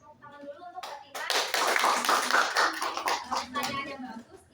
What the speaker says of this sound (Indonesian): beri tepuk tangan dulu untuk Fatimah.